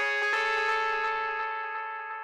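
A techno synth run through a medium-speed dub delay, with ringing, bell-like tones repeating in a steady pulse and gradually fading while the echoes overlap into a dense, slightly distorted wash.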